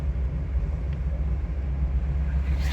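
Diesel Peugeot 106 hatchback driving on the road: a steady, low engine rumble and road noise heard from inside the car, with no talking.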